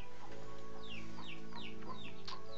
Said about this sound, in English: Yes, and you can hear a chicken in the background.